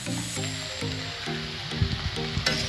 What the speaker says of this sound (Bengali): এবার এগুলোকে একসাথে মিক্স করে নেব